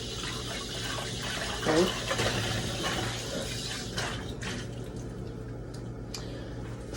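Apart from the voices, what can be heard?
washing a cooking pot under running tap water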